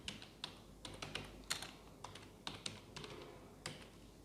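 Typing on a computer keyboard in MS Word produces quiet, close, irregular key clicks, a handful of taps per second with brief pauses, heard alone without talk.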